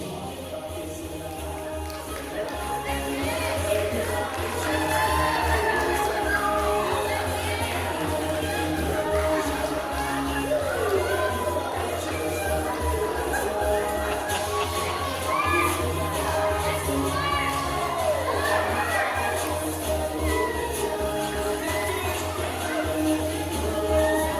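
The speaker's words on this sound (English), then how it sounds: "so when they dance, go ahead and cheer them on" An audience at a stage hypnosis comedy show in a theater cheers during a dance contest, a busy hubbub of shouts, whoops and chatter over a low musical hum that continues throughout.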